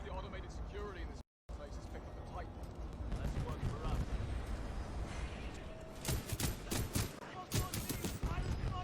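Gunfire from a single-shot weapon in the video game Titanfall 2, a series of sharp separate shots that thicken toward the end amid game noise, with a voice talking over the action.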